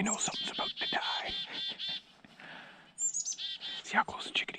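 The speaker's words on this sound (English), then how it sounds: "See how close the chickadees are getting?" Chickadees chirp and call repeatedly at close range in a wooded spot during predator calling, bright rapid notes in bursts with short quiet gaps and faint rustling between.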